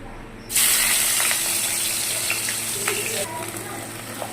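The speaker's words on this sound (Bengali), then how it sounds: "মাছটা আমি এবার দিয়ে দেবো তেলে" Bata fish dropped into very hot oil bursts into a loud, steady sizzle and crackle that starts suddenly and continues close up, easing slightly near the end.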